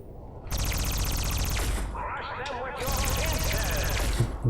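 Turrets in Fallout: New Vegas fire at a Robo-Scorpion in two loud, rapid bursts of repeated shots separated by a short lull, with warbling energy sounds between them and no speech over the firing.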